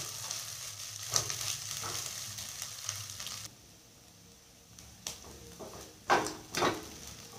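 Egg bhurji sizzling and frying in a pan, with scraping stirring strokes and a few sharp clanks of the spoon against the pan, busy at first, then quieter with intermittent knocks.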